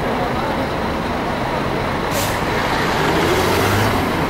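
A large vehicle, probably a bus or truck, rumbles past close by on a street on La Gomera in the Canary Islands, with a short hiss midway and engine noise swelling toward the end over steady traffic background.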